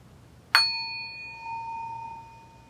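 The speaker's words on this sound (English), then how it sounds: "I'm going to go ahead and ring the bell to signal the end of our formal practice together today" A single meditation bell is struck once to close a relaxation practice, giving a bright clear ding that rings on as a long, steady, fading tone in a quiet room.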